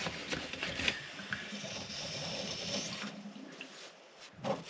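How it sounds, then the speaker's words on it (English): Faint running and gurgling water drains steadily from a kitchen tap, with a few soft clunks, heard at a distance. "we can hear the water now going that way in as it's draining out down in the kitchen tap"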